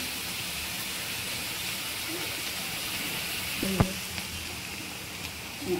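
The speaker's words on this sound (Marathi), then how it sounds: "आणि आता त्यात एक हिरवी मिरची कापून घालते मी" Cut green chili dropped into hot oil with popped mustard seeds gives a steady, fairly quiet sizzle throughout, with a brief clink or tap near the middle.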